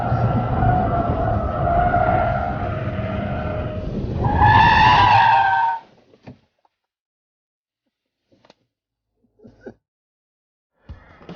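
A Mazda CX-5 family car is driven hard by a rally champion, its engine roaring loudly and tires squealing through a turn, then cutting off to near silence with a few faint distant sounds.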